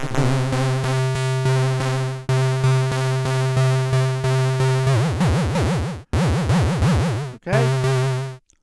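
A SquareSynth synthesizer on an iPad plays sustained buzzy tones in several held phrases, with pulse width modulation making the timbre sweep and wobble toward the end, separated by brief cutoffs.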